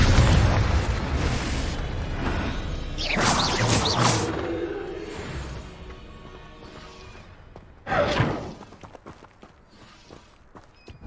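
In Hogwarts Legacy, the Confringo blasting spell goes off as a whooshing, booming explosion, followed a few seconds later by a second shorter burst against a rumbling game background.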